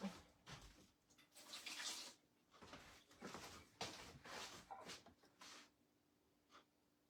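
Water poured out of a cup while measuring ingredients for sourdough peanut butter cookies, heard as several short splashing bursts with brief gaps, close and moderately loud, with no talk.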